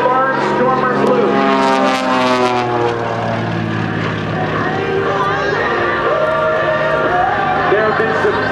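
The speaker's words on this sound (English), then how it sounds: "Watch as he goes over the top for a beautiful barnstormer's loop." A Mystery Ship propeller airplane flies a barnstormer's loop at an air show, its loud engine droning steadily while the pitch sweeps up and then falls away, with a voice talking over it.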